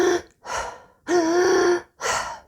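A voice imitates the over-breathing gasp of a panic attack: four sharp, close gasping inhalations in quick succession, the third long and strained, with short silences between.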